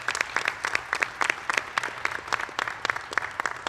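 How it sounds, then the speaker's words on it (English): A small group applauds county staff at a community shoe and sock drive in Pasco County, with distinct, uneven individual claps rather than a dense roar, fairly close and continuing throughout. "So a round of applause for all of you guys"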